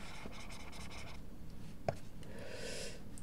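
Chalk or marker scraping on a board during a PDE lecture, a few short scratchy strokes with a louder tap near the middle, fairly quiet in a roomy hall with no talking.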